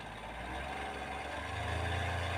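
A Hyundai Grand i10 diesel engine with an abnormal noise runs steadily up close. It gives a continuous low rumble with a slight, even roughness and no speech.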